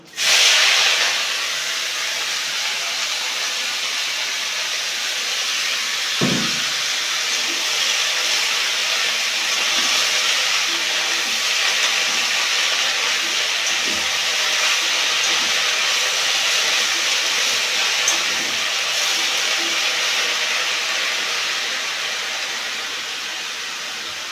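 Pumpkin leaves dropped into hot oil with blackened fenugreek seeds, giving a loud steady hiss and sizzle that starts abruptly and holds throughout, with a faint soft thump near the middle.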